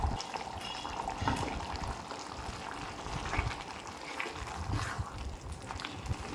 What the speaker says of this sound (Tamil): இன்னும் ஒரு 1/2 கப் கிட்ட தண்ணி விடுறேன்